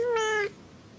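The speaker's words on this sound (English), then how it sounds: "the disappointed cat." A cat gives a single drawn-out, falling meow that sounds disappointed, lasting about half a second, close and clear, followed by quiet.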